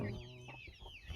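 Chickens cluck in a few short, close bursts over about a second, fairly faint, with no one speaking.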